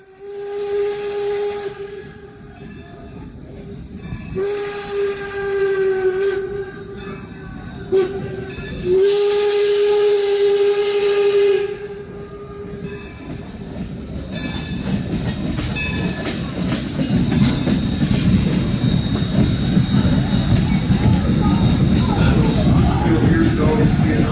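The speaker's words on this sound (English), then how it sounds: "the train works its way through the city, it passes right by the University of Scranton" A Baldwin Locomotive Works steam locomotive sounds its whistle in several long, loud blasts as it passes through Scranton, followed by the steady rumble and hiss of the train rolling by close up.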